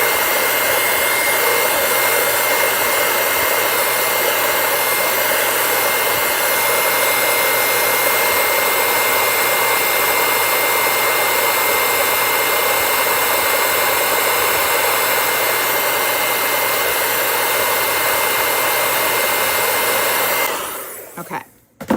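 A hair dryer drying stencil paste on a craft project, a loud, steady whooshing blast running close up for about twenty seconds before it cuts off, with no talking.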